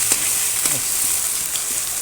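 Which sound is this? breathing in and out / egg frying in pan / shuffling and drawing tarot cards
egg frying in pan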